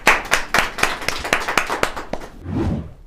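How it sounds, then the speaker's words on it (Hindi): Applause welcoming a speaker at a franchise business event, a small group clapping in distinct, fairly regular close claps, then a brief shuffling noise at the end. "तो जोरदार तालियों के साथ स्वागत करते हैं सर का"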